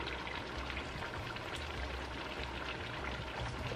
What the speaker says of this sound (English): Add your lime juice.